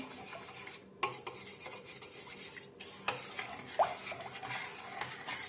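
A spoon stirs five glasses of milk in a pot for a milk pudding, giving a steady close scraping and rubbing with a few sharper clinks against the metal.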